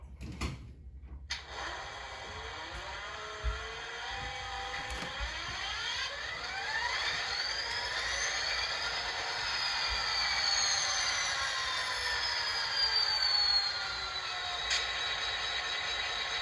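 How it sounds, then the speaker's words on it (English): An HO scale model train runs along a layout, pulling rebuilt cars, with a steady mechanical whir and rising, sliding motor tones, some faint high squeal, close and moderately loud throughout without talk. "it's going to do the honors and pull in the train tonight as we test 2 rebuilt cars on the layout"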